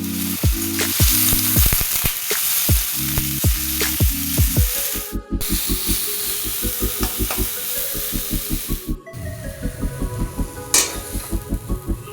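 Steady sizzling and crackling of whole spices frying in hot oil in a kadai, continuous and close, with occasional clinks and stirring noises throughout.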